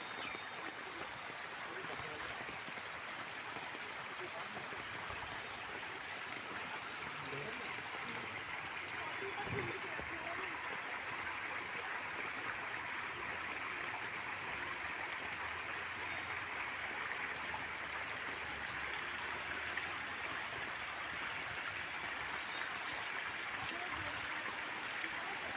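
Water flows steadily at Ratan Talav in Bharuch, a continuous broad rushing wash holding level for the whole stretch with no pause, close and fairly loud.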